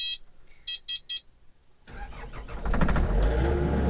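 A Kubota KX-080-4 excavator's engine cranks and fires up after a few short electronic beeps, then settles into a loud, close, steady diesel roar.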